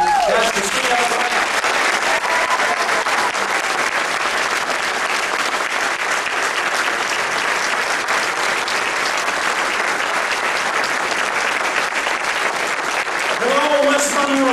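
Sustained, loud audience applause fills a rally crowd welcoming Pastor C.L. Bryant in West Monroe, steady clapping with some cheering throughout, and brief voices near the start and end.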